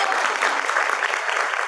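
An audience claps for the school principal at an event, with steady, dense applause filling the whole short stretch at moderate loudness and no voices heard.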